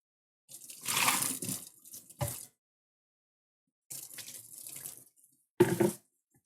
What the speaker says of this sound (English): rinse out your blender pitcher and lid if you got the lid as messy as I did